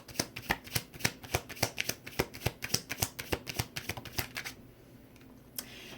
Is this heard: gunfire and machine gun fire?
no